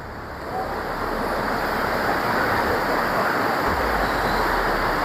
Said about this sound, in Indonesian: mungkin ini suaranya ini lebih dominan suara air ya, karena suara sungai ini sangat deras banget